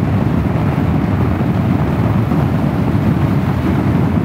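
A Vespa GTS 300 hpe scooter cruising steadily at about 120 km/h, a continuous loud low drone of engine and wind rush at the microphone, unbroken and close throughout.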